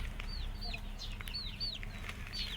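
Chickens cluck softly at close range alongside thin, high chick peeps, a sick, listless chick among the flock; scattered short calls over a low steady background rumble.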